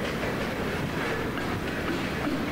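A freight unit train hauling frac sand on the old Delaware & Hudson line rumbles past in a steady, dense roar, loud and close, with no pause in the sound.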